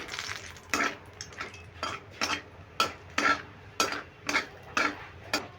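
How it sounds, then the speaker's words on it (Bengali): Dried red chillies and a bay leaf frying in a pan, stirred with a metal spoon: a steady run of sharp scraping clinks in an even rhythm, close and moderately loud over a soft background sizzle. "লঙ্কাটাকে একটু নেড়ে ভেজে নিচ্ছি"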